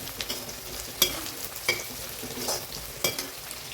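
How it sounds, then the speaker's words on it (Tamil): Onion, two green chilies and a handful of curry leaves sautéing in a pan for drumstick kara kuzhambu, a steady close sizzle with intermittent scraping stirs of a spoon, no talking. "இந்த ஸ்டேஜில் பச்சை மிளகாய் 2, கருவேப்பிலை ஒரு கை போட்டுக்கிறேங்க. இது நல்லா வதங்கட்டும்."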